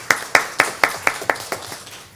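An audience at a health and welfare research forum claps to welcome a speaker, eight or so sharp, evenly spaced claps that fade out over about two seconds.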